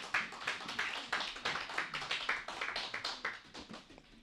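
A church congregation bursts into applause in acclaim of the word of God, with dense rhythmic clapping that comes in repeated surges and continues throughout without voices.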